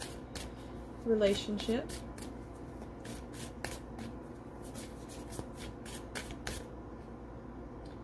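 Tarot cards shuffled in a quick riffle burst early on, close and crisp, with a voice talking over and around the light card flicks.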